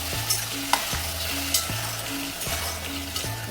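Large cut potato pieces sizzle and fry steadily in a pan for samosa filling, with a few sharp scrapes of a spoon stirring them and a low hum running beneath.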